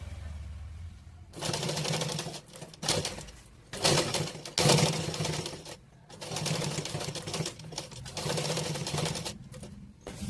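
A sewing machine stitching a blouse runs in loud, close bursts of rapid mechanical rattling, starting and stopping several times with brief pauses between runs, and no one talks over it.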